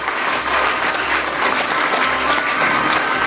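Dense, steady applause from an audience at a Ukrtransgaz award ceremony honouring a security guard, filling the whole stretch at even loudness with no voices.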